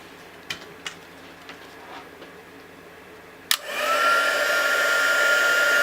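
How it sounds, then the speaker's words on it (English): A heat tool blows hot air to emboss a watercolour card. A few soft clicks and taps come first, then the tool switches on with a sharp click into a steady, close, whooshing fan hum that continues to the end. "we're going to go ahead and use our heat tool to emboss this"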